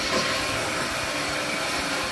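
An EB-270DS metal band saw cuts through half-inch by two-inch steel bar, making a steady, loud, broadband grinding hiss that holds even throughout.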